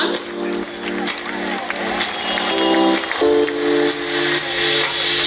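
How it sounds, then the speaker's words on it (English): An audience claps at a school reunion stage ceremony, with steady, moderately loud applause that has a crowd murmur underneath, while a sustained musical tone plays along with it. "A round of applause, everyone."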